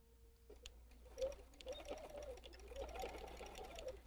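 A sewing machine stitches elastic into the corner of a fabric face mask, a soft, steady mechanical whir with light rhythmic clicking, close but quiet, running for a few seconds after a brief pause.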